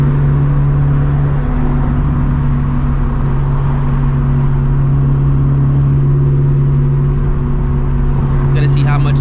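A turbocharged Toyota FRS engine, making over 350 wheel horsepower, drones steadily up close with a low, constant tone, and a short airy burst like a blow-off valve comes right at the end.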